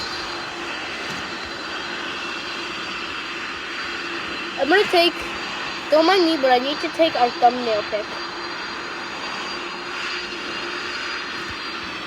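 A cargo plane taxis with its engines running, giving a steady droning roar throughout while a person talks briefly over it.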